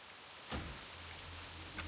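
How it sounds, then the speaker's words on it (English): Soft, steady rain falls in the World of Warcraft Classic game world, a faint continuous wash of noise with a brief muffled thump partway through and a low hum underneath. "Let me go ahead and turn down the rain just a little bit."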